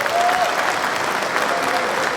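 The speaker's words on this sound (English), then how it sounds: "I'm gonna give a round of applause" A steady round of applause from a live crowd, dense and continuous from start to finish with no one speaking over it.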